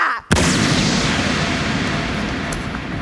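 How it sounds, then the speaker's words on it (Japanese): A sudden loud stage gunshot bang cuts in after a short pause during a theatre dress rehearsal, followed by a sustained roaring rumble that slowly fades. "おかしらの銃声だ。"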